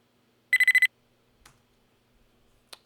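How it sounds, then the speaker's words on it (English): Enemy alert chime for a spider foe in a video game: one short bright tonal burst of rapid pulses, followed by a couple of faint clicks, heard alone with no talking. "The spider alert sound."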